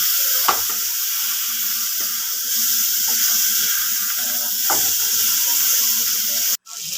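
Chicken meat sautéing in a pan gives a steady, close sizzle with occasional stirring clinks and scrapes, ending with a brief break.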